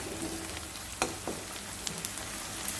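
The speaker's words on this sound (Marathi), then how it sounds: "आलं लसणाची पेस्ट आपण टाकलेली आहे. ती पण यामध्ये आपण चांगली मिक्स करून घेणार आहोत." Ginger-garlic paste fries in a pan for potato bhaji with a low, steady sizzle. A few soft scrapes of stirring sound close by, and no voices.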